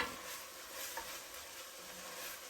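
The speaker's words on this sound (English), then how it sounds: "we're going to continue just stirring and chopping" Vegetables for an Italian bolognese sauce stirred in a hot pan, with a steady close sizzle of frying and soft scraping of the spoon throughout, no voices.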